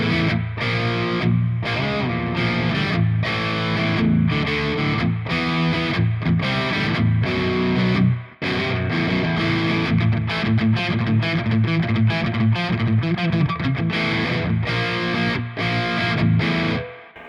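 An electric guitar plays through an ENGL E670 Special Edition amp set to a crunchy distorted tone. It carries strummed chords and riffs steadily and loud, with one brief pause midway and no talking.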